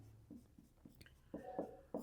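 A pen writes on paper in faint, short scratching strokes, spaced unevenly and growing slightly louder toward the end, in an otherwise quiet room.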